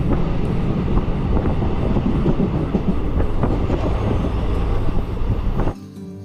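Inside a moving train passing Hooghly in West Bengal, a dense, steady rumble of wheels and carriage mixes with wind noise, then drops off abruptly near the end.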